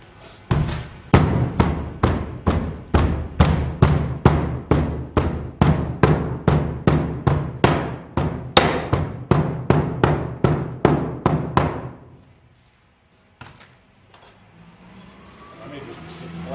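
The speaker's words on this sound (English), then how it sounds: "Finally, give it an even ramming all over." Sand rammed into a foundry mould for cast iron, about two dozen evenly spaced heavy thuds at a steady rhythm, close and loud, stopping near the end before faint handling noise.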